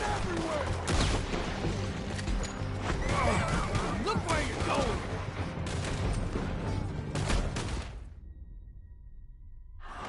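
Horses neigh and whinny amid a chaotic Red Dead Redemption 2 gunfight chase, with hoofbeats, gunshots and crashes, loud and dense, while voices shout over the action before it cuts to near silence.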